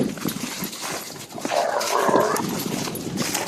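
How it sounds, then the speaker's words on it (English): Several dogs bark excitedly outdoors on a snowy track, loud, overlapping yips and barks that continue steadily throughout. "Crazy ass dogs."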